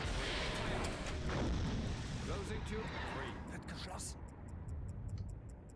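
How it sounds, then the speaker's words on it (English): In the Silent Hunter 5 submarine game, torpedo tubes fire with a loud, dense whooshing rumble that fades, followed by faint rhythmic ticking. "Now, torpedo tube 3, fire."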